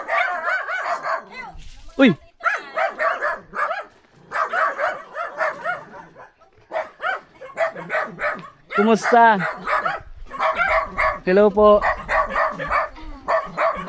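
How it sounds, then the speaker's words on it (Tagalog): Several dogs bark and yip repeatedly around the doorway of an old house, loud and close, mixed with people greeting and talking over them. "Dami aso."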